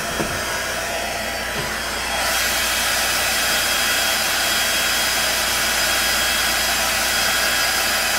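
A hair dryer switches on and blows steadily, a loud, constant whooshing hiss aimed at paint or ink on paper, with faint handling sounds before it starts.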